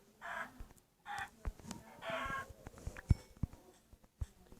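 Minecraft chickens cluck in short, repeated bursts, three clustered calls early on, followed by scattered sharp clicks and thumps from gameplay actions, close and moderately loud with no talking.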